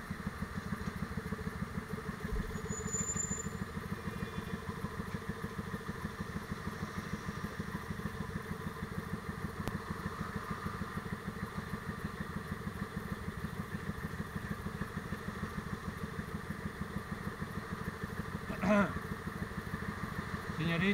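A motorcycle engine idles steadily with a low, rattling rumble throughout, with a brief thump and a faint bird chirp over the constant drone.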